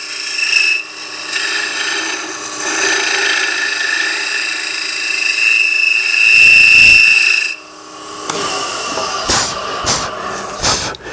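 Shear scraping on a wood lathe while turning a wooden box produces a loud, steady high-pitched chattering screech that runs continuously, then gives way to a few scraping bursts near the end, with no talking.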